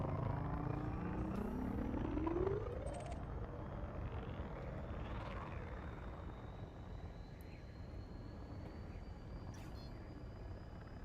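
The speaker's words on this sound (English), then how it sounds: "Frameshift drive charging." A spaceship's frame shift drive charging in the video game Elite Dangerous, a steady, dense engine roar with a slowly rising whine, continuous and moderately loud throughout.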